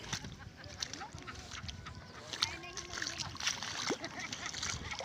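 Sea water splashing steadily at a white sand beach in Mati City, a continuous close wash of surf with voices, including a child's, talking over it.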